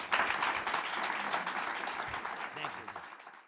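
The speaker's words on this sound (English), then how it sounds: "Now you can applaud." An audience at a civic leadership event claps in a steady wash of applause that holds at full strength and then fades out over a few seconds, with a voice faintly under it.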